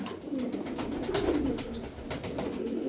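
Sarıkır pigeons coo in low, steady, overlapping calls that run continuously throughout, fairly close and moderately loud, with no talking.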